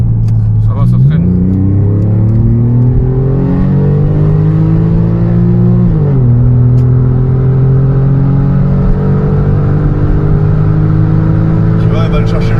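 A Porsche 911 Carrera type 996 engine drones loudly from inside the car, its pitch climbing steadily with two sudden drops along the way, while people talk over the noise.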